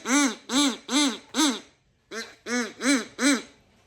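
A duck call blown in repeated quacks, four rhythmic honking notes, a short pause, then four more, close and loud with no talk.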